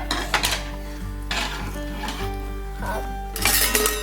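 A spatula scraping and clanking against a pan of cooking eggs, with bursts of metallic scraping separated by short pauses over a low steady hum.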